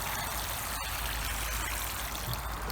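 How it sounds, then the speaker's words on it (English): Water draining through the holes in the bottom of a garden center pot after a tree is repotted, a steady close trickling stream that flows without pause. "Water drains through real nice. You can see that already draining through."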